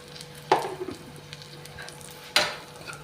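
Dal frying in a pan with salt and chili, stirred, with two distinct scrape-and-sizzle strokes over a low steady background hum.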